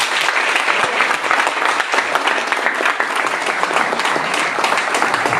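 A seminar audience claps steadily and densely throughout, a sustained wash of applause with no talk over it.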